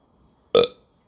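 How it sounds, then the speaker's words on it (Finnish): A single loud, close burp, abrupt and short, breaking a quiet pause. "tuli röyhtäys väliin"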